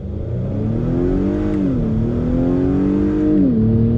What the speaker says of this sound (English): Pulls nicely all through the rev range.